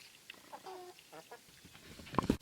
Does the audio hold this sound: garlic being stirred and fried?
no